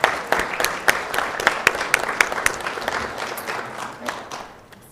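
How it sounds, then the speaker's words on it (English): Applause at a mayor and council meeting honoring Lupus Awareness Month in Warner Robins: a moderate room of scattered claps, uneven and sharp at first, then thinning out and fading over a few seconds. "let's give a round of applause for Lupus Awareness Month in Warner Robins"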